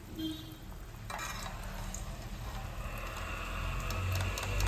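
Badusha sweets fry in hot oil, with a steady soft sizzle and occasional stirring scrapes, close and fairly quiet, with no talking.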